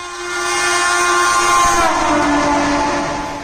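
A loud, sustained Indian Railways train horn blares over the rumble of a passing train, holding steady for several seconds with no voices.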